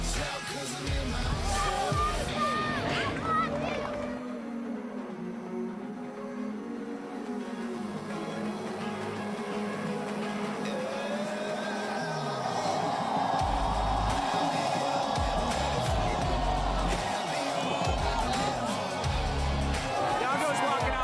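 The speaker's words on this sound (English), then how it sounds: "Crowd is stacked. You can hear them. They chant Iago." Crowd at the Vivo Rio Pro surf contest finals in Rio, cheering and chanting for surfer Iago. The noise rises into loud, sustained roar and chant under music and an announcer talking throughout.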